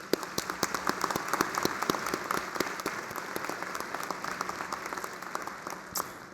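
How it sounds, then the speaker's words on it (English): A commencement audience applauds new graduates at a winter university ceremony, a steady dense wash of many hands clapping throughout, fairly distant and even with a few sharper individual claps standing out. "can we clap it up for these graduates?"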